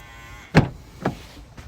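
A 2017 Mitsubishi L200 2.4 DI-D Barbarian automatic pickup locking and unlocking by keyless entry: three sharp mechanical door-lock clunks, loud and close, with the first the strongest and the others about half a second apart in a quiet setting.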